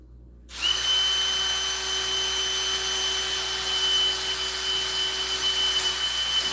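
A power drill with a 1/4 inch bit starts abruptly from silence and runs steadily at a high, even whine, close and loud, with no pause through the rest.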